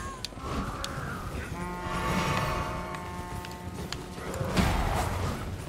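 Horse hooves clop in a steady rhythm as a rider travels on horseback in the video game Elden Ring, fairly close and loud, over a background of sustained tones.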